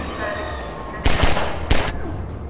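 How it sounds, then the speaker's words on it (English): Two loud bursts of gunfire in Half-Life 2 Synergy, about half a second apart, breaking through a steady bed of game noise and background hum. "Who's shooting me?"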